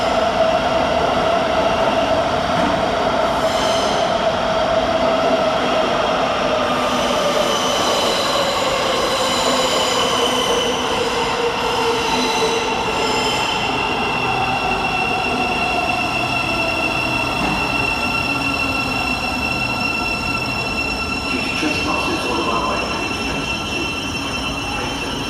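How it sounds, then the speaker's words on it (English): A Class 700 Thameslink train arrives at London St Pancras station, its rumble steady and close while wheels squeal in long drawn, sliding tones across the whole stretch, with no voices. "next in to arrive is 700 113, working the 10:45 to be a Thameslink service from Peterborough to Horsham."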